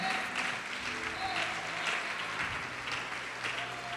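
A church congregation applauding during a sermon, a steady crowd of clapping at moderate volume with voices mixed in beneath it.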